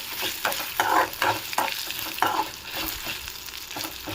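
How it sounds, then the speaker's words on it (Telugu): Dry red chillies fry in oil for ginger pickle while a utensil stirs them through the pan, giving bursts of scraping and crackling sizzle in an irregular rhythm, close and moderately loud. "కొంచెం ఎండుమిర్చి కూడా బాగా వేగాలి"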